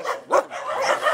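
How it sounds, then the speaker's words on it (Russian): Young, half-grown puppies in a shelter enclosure give short, close, yappy barks and yips in quick succession. "Здесь у нас щенята уже подросшиеся."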